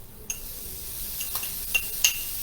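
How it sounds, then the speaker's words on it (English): Mushrooms and shallots sauté in a little oil in a pan while a beef Wellington is prepared, giving a soft, steady sizzle broken by a few light utensil clinks and taps. "in this pan, I'm going to get a little oil as well. And we're going to start sauteing the mushrooms"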